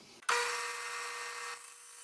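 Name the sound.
bandsaw cutting a notch in an antler handle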